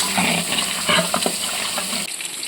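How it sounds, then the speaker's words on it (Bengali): Potatoes fry in a pan, giving a close, steady sizzle with a few brief scrapes and knocks before the sound drops away near the end; nobody speaks. "এরকম আলু ভাজাটা হচ্ছে"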